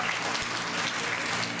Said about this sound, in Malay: Beri satu tepukan kepada pemaju-pemaju.